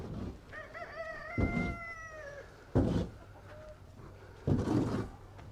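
At a farm chicken house, a rooster crows once in a long wavering call while hens cluck and bump around, with a few knocks and scuffs from people cleaning.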